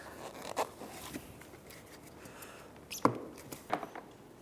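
Plastic clips on a front bumper cover trim piece of a 2015-2019 Hyundai Sonata snapping into place, a few quiet sharp clicks and light scraping with gaps between.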